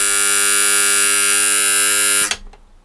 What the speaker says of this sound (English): That's actually just a buzzer, so I guess that's the alarm.